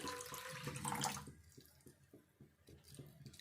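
Water pours from a cup into sorghum flour in a pan, a short splashing gush at first that settles into a softer trickle, with faint rhythmic knocks continuing underneath.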